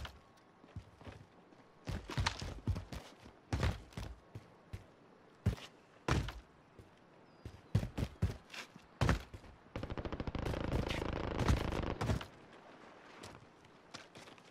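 Video game gunfire: sharp shots come in scattered single cracks and short clusters, then a dense sustained burst of rapid fire, with no talking over it.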